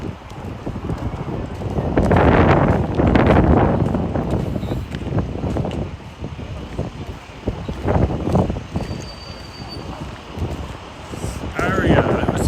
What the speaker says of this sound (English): Oh yeah, super windy. Super windy.